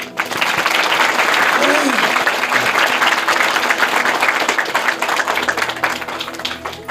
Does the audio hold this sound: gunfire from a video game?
no